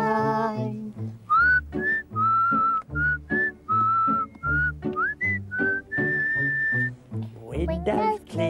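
Someone whistles a cheerful melody over a bouncy musical accompaniment, the notes clear and steady, ending as a voice briefly joins in.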